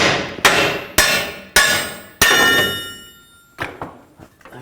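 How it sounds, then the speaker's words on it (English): A hammer striking a punch to drive out the torsion bar on a 2000-06 GMC Yukon front suspension: four loud ringing metallic blows at a steady pace, each decaying, followed by a few lighter taps. "just use a hammer and just try to punch the torsion bar out."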